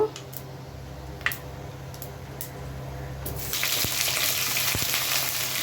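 Steady sizzling of food frying in hot oil, growing louder and denser partway through as onions and green chilies go into the pan, with a few clinks.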